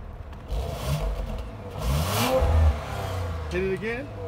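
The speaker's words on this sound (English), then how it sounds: "if you want to hear the exhaust" A 2018 Audi RS5 engine revs up and roars through its exhaust, rising then falling, with people talking and calling out over it.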